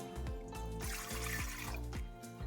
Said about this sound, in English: Let's get the water in first.